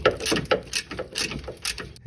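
A 1/2 inch socket ratchet clicks in quick, uneven bursts while backing out a bracket bolt on a 1996 Oldsmobile Cutlass Ciera during front strut work, close and fairly loud with no talk.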